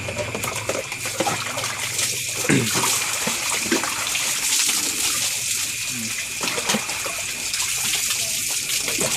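Tap water gushes steadily into a bath at home, a continuous close hiss and splash with faint voices and small knocks underneath.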